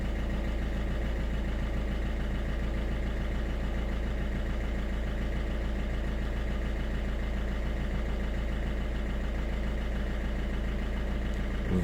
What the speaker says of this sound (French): Nous allons mettre en route le véhicule.